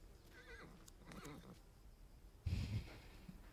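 A horse in the Alfred Hitchcock Vertigo video game gives a couple of drawn-out whinnies, followed by a sharp, louder thump or clatter partway through.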